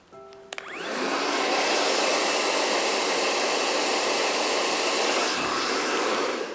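A hair dryer blows steadily on hair for several seconds after a couple of clicks, a loud, continuous rushing whoosh that tapers briefly near the end.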